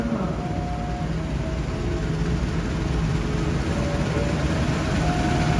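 A passenger train approaches a station on Indonesia's southern Java line, producing a loud, continuous rumbling roar with steady low mechanical noise and faint tonal whines, no voices.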